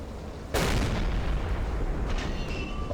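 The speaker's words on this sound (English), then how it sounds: "They are still shooting." Naval gunfire from an enemy ship in the WWII submarine game Silent Hunter 3: a single loud boom strikes suddenly, then a long rumbling decay, with fainter distant shots following.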